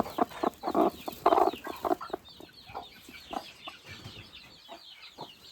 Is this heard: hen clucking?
yes